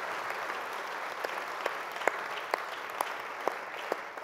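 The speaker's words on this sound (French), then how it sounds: "on peut les applaudir parce qu'elles font un travail absolument formidable" An audience at a conference session applauds steadily, a dense and even clapping from a large hall crowd with a few sharper individual claps standing out, and no voices over it.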